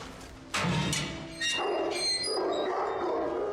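Dogs give a few sharp yips and barks in quick bursts, followed by lower scuffling and thumping sounds, moderately loud and close.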